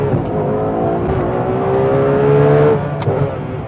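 A Ferrari 812 Competizione, an 819 bhp limited-edition V12 car, is driven hard on a track, its engine revving up loudly in a rising, close whine before easing off under braking.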